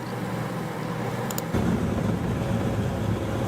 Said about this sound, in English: let's see what happens here when my 67mm Supra takes on this modded Gixxer 750 S-Rad here